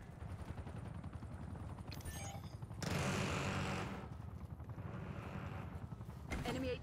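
Gunfire from the video game Call of Duty: Black Ops 6, with bursts of rapid shots and broad noisy blasts over a steady mechanical rumble, loud and dense, with a voice speaking over parts of it.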